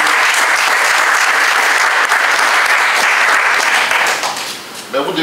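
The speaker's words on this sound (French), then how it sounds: "Donc applaudissez pour vous parce que vous n'êtes pas en bas." Loud, dense audience applause at a PDCI-RDA party gathering, continuous for several seconds before thinning out near the end, where a voice begins to speak.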